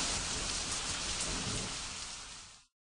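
Steady rain pours down in a dense, even hiss, then cuts off abruptly near the end.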